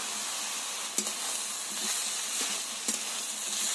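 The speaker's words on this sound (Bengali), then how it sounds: "আদা বাটা দিয়ে আবারও ভালো করে কষিয়ে নিতে হবে" Shredded cabbage with ginger paste sautéing in a pan, a steady close sizzle with a few sharp scrapes of the spatula stirring through, no voices.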